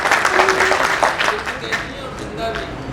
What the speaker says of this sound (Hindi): तो बस जोरदार तालियां।